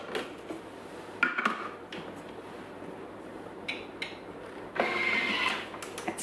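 Thermomix appliance mixing a zucchini pizza base, a whirring motor with clattering bursts in the bowl, rising louder near the end.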